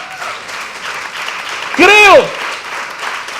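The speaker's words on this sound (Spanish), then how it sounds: "Dale un aplauso al Señor." A congregation's applause fills a church as a steady wash of clapping, while a preacher's voice rings out loudly over it partway through.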